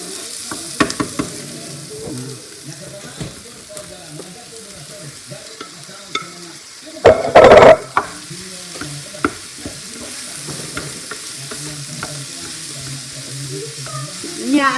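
Meat frying in a pan and being stirred, with a steady sizzle under scraping utensil strokes and one brief loud burst midway.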